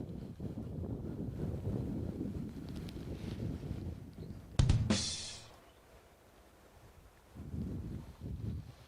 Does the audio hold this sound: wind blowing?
yes